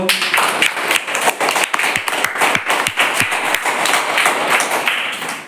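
Children clap their hands together in a classroom during an early numeracy lesson, a dense, steady run of close, loud claps with sharp individual slaps standing out.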